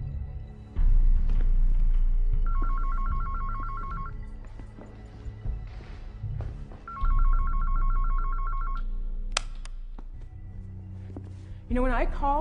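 A telephone rings twice in clean bursts of rapid bell trills, separated by a pause, over a low rumbling background with a brief beep and a short burst of electronic tones near the end; no clear talk.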